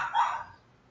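A single short, fairly faint bark from a chihuahua indoors, fading quickly into near quiet.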